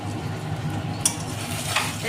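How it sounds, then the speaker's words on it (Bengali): Beaten egg frying in oil in a wok (kadai), a continuous close sizzle with a couple of brief utensil scrapes and clinks, no talking. "ডিমটা ভেজে নিচ্ছি"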